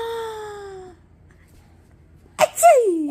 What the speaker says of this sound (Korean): 아, 재채기를 너무 많이 한다